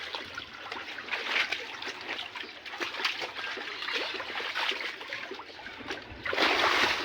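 A child swimming in a pool, with close irregular splashes and water trickling and slapping in uneven bursts, and a louder surge of splashing at the end.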